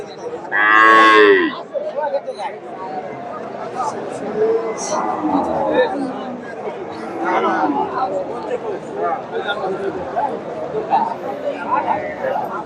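A local cow moos loudly once up close, followed by the steady murmur of a crowd and chatter at the busy Dakumara cattle market in Bogura.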